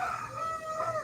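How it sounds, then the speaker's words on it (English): A rooster crowing on a Costa Rica property overlooking the Pacific, a single clear drawn-out crow, moderately distant and alone. "Don Roger the Rooster is letting me know it's time to have breakfast"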